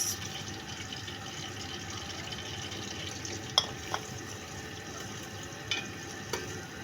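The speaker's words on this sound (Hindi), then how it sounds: "गरम होना शुरू हो गया, इसमें प्याज डाल दूँगी" Chopped onions frying in hot oil in a home kitchen pan give a steady, close sizzle, with a few sharp pops and clicks rising above it. No one speaks.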